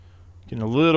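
A goat bleats once, close and loud, a wavering voiced cry that rises out of quiet background noise in a rural survival setting.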